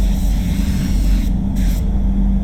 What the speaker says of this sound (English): I would rather not have to be this close to the wall when I'm spraying